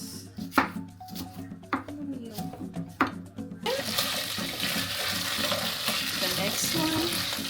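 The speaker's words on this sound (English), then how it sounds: "The next one is frying the meat." Meat frying in a pan for Kenyan pilau with onions: a few sharp clattering stirs and taps first, then a loud, continuous sizzle that takes over and holds steady.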